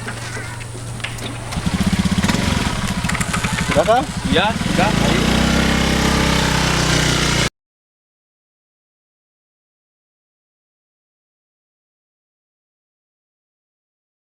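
A motorcycle engine starts and runs with a loud, steady putter for several seconds before cutting off, while people exchange a few brief words nearby.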